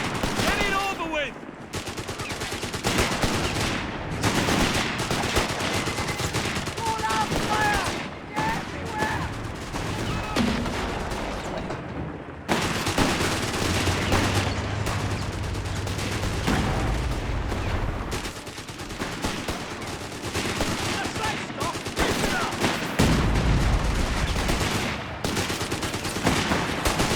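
Dense gunfire and heavy shots from an anti-tank gun and infantry weapons in the video game Company of Heroes 3, loud and sustained with bursts of machine-gun fire and booming impacts, with battlefield voices mixed in.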